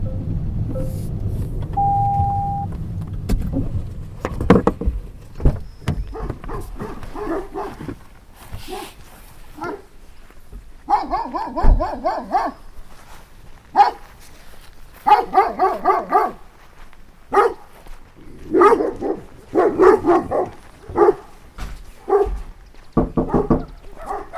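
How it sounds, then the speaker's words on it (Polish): Several dogs bark in short, irregular bursts, some near and some farther off, in an area near the Polish–Belarusian border. Faint whimpers and yips mix in, with a low rumble early on and no clear talk. "Zdziwiony jestem, proszę pani, że tutaj dużo takich psów"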